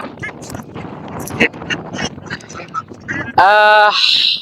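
People talk for a few seconds at a poultry market in Kuwait, then a duck lets out a loud, close, nasal quack near the end.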